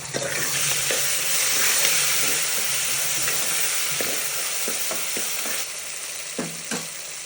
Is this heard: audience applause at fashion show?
no